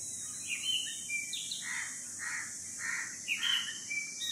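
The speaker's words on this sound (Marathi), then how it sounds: "या बाजूला कोकिळाचा आवाज येतोय." Bird calls ring out in a morning outdoor setting: a series of about four repeated, rising call notes, moderately loud and fairly close, over a steady high hiss of insects and other birds, with no talking.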